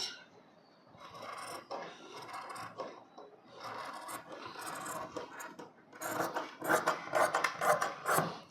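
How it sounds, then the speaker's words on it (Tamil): Scissors snip through blouse fabric in a steady run of close, rasping cuts, growing louder and quicker toward the end. "இப்போ நம்ம கட் பண்ணி எடுத்துக்கலாம்."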